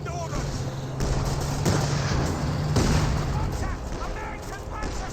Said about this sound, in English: now he can call in artillery barrages